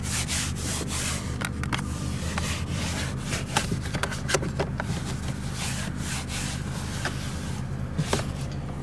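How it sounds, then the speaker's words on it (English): Cloth wiping and rubbing across interior surfaces of a 2020 Toyota Corolla LE, a steady close scrubbing texture with brief sharper scuffs, no voices. "Then we'll also wipe down some other surfaces right here."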